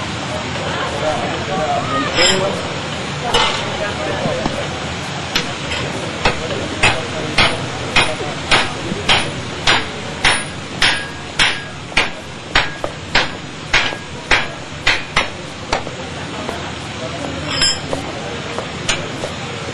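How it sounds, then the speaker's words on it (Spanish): A blacksmith hammers red-hot iron, heated to about 800 degrees, to forge a nail, striking in a fast regular series of sharp metallic blows that stand out over faint background chatter. "Para moldear el hierro hace falta calentar el hierro a 800 grados que tiene ahora en el rojo vivo"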